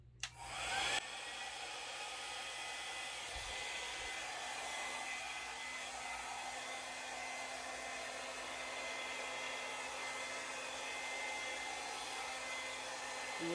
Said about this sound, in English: Now, when I blow these paints, I'm going to blow one way and I'll probably pause and think about what I'm doing